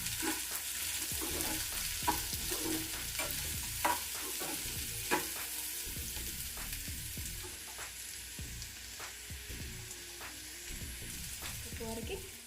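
Chilli powder and biryani masala stirred in a pan for veg dum biryani, a quiet steady sizzle with soft repeated spoon scrapes and taps close by, and faint voices in the background.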